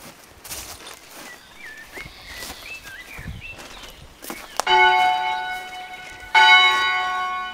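Church bell at St Andrew's church in Grinton in the Yorkshire Dales, struck twice with loud ringing tones that decay slowly, after quieter footsteps and birdsong outdoors.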